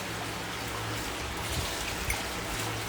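Water pours into a cup at home while halwa is being cooked, giving a soft, continuous splashing trickle that is steady and fairly quiet throughout.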